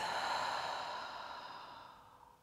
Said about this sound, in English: Take a deep breath out.